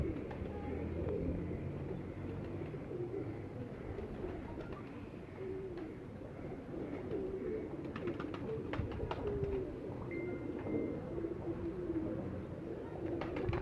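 Pigeons, including a large French breed cross, coo repeatedly in soft, low murmurs, with several birds overlapping at a moderate distance and faint rustling in the background.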